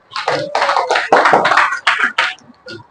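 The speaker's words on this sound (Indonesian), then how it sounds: "Tepuk tangan untuk kalian." Students in a fifth-grade classroom clap their hands together in a loud, dense burst of applause lasting a couple of seconds, then it fades into a few scattered claps.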